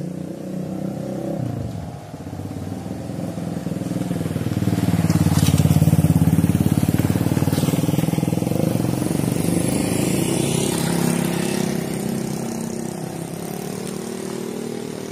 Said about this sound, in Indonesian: Motor iki.